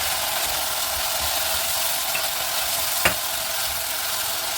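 Masala of tomato and onion frying in a pan for stuffed chili peppers, a steady loud sizzle throughout with a spoon scraping and stirring now and then, close up and without talking.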